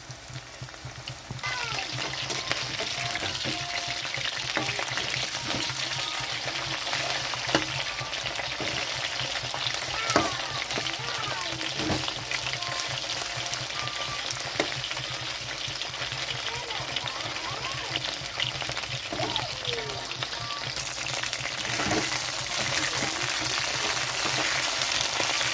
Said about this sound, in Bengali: তো এরকমভাবে এক এক করে ভেজে নিতে হবে।